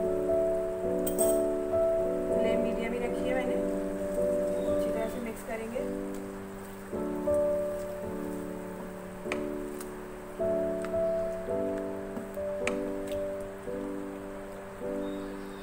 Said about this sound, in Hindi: अब हम इसके अंदर दही को अच्छी तरह से फेंट के शामिल करेंगे।